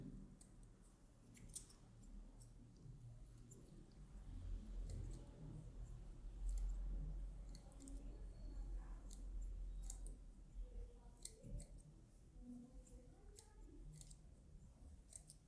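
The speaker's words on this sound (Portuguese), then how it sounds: "Por isso que é bom você usar a tesoura dentada aqui para começar o polimento" Thinning scissors cutting hair during a salon trim, giving soft, faint, repeated snipping clicks at an irregular pace against a quiet room background.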